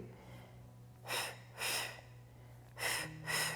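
Deep mouth exhalations during a floor exercise workout, four breathy bursts in two pairs, fairly close and moderately loud over a faint steady hum, with no talking.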